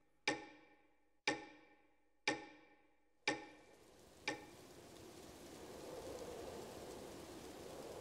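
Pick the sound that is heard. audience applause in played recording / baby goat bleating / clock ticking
clock ticking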